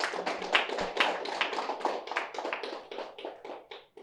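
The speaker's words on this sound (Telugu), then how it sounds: "గట్టిగా చప్పట్లు కొడదాం." An audience at a birthday celebration in Vijayawada claps steadily and loudly, a dense run of hand claps that slowly thins and fades toward the end.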